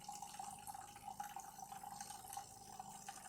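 A DeLonghi Magnifica Cappuccino S espresso machine brews a shot, a quiet, continuous dribble of liquid with soft drips over a low hum, and no one speaking.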